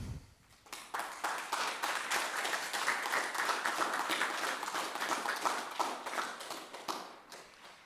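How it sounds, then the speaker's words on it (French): Audience applause at a school event in Pirajoux, a steady burst of clapping that swells after a quiet start, holds for several seconds, then thins out near the end. "Je pense qu'on peut les applaudir"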